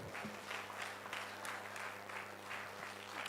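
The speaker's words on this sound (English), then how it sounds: "All right, let's clap for them." Audience applause at a national investment quiz competition semifinal, steady soft clapping from a moderate crowd, continuous and fairly faint with a low hum underneath.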